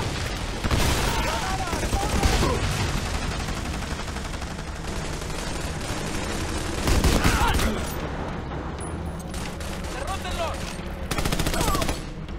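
Heavy video-game gunfire in the co-op shooter Army of Two: The Devil's Cartel, continuous bursts of automatic fire with booming grenade-style blasts swelling around the middle and end, loud throughout with voices shouting over it.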